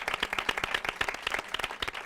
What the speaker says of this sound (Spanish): Un aplauso para el decano,